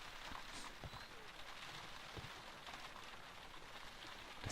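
Steady rain falls in the Sherlock Holmes: Crimes & Punishments video game, a constant broadband hiss with scattered drop taps throughout, moderately loud and unbroken.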